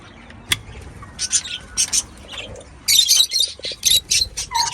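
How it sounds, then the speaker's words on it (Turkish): Baby budgerigars in an aviary give bursts of high, scratchy chirps and squawks, close and fairly loud, in quick irregular clusters, with one sharp knock near the start. "şuradan size yavru muhabbet kuşlarını göstereyim"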